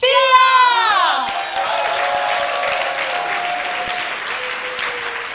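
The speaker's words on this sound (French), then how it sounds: "un tonnerre d'applaudissements pour" An audience claps and cheers loudly for the performer Pia, a dense burst of applause that tapers off slightly as it goes on, with a voice rising over the start.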